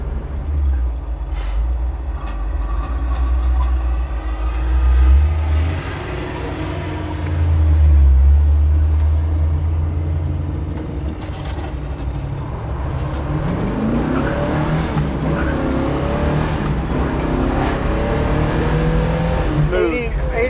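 A 1962 Chevrolet Bel Air cruising at highway speed around 80 mph, its steady low engine drone and road rumble swelling briefly at times, heard from inside the car under ongoing conversation.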